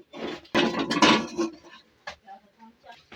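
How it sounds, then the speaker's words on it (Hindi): A flat metal tawa griddle is washed at a home kitchen sink with a run of clattering and scraping metal knocks, loud at first and then thinning into sparse, separate clinks. "तवा लेके चलते हैं, धो लेते हैं।"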